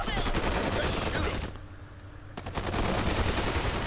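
Gunfire from the real-time strategy game Forged Battalion: dense, continuous rattling bursts that drop out briefly in the middle and then resume at full strength.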